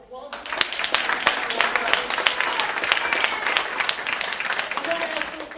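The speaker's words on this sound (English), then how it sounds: "Everybody give a round of applause." Audience applause breaks out after a short quiet start, dense clapping with sharp individual claps standing out near the microphone, sustained steadily to the end.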